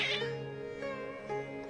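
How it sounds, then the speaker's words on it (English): Cats meowing in the Genshin Impact video game, a few agitated, drawn-out cries layered over steady game background music, close and fairly loud with no talking. "Your cats seem pretty worked up."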